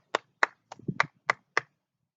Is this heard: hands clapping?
yes